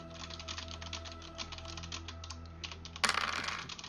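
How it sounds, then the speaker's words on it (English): Rapid typing on a computer keyboard, a dense run of light clicking keystrokes at close range, ending in a louder, busier burst of key clatter. "Typing in actions."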